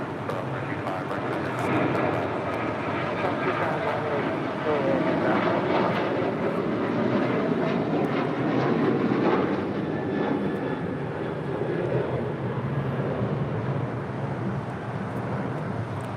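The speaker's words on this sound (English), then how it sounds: "This is United Airlines 1295 departing to Lihue on a 737-800" United Airlines Boeing 737-800 taking off from LAX bound for Lihue, jet engines roaring and swelling in waves across the runway, with voices heard along with the engine noise.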